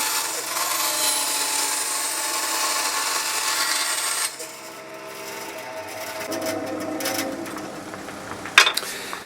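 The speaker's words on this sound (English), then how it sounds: "you push the wood through with a drill and this blade cuts it into a circular or a cylindrical shape" A drill pushes a length of wood through a small dowel maker blade, cutting a 12 mm cylindrical dowel for a tiny chair restoration; a steady loud whirring grind runs for about four seconds, then quieter rubbing and a short sharp knock near the end.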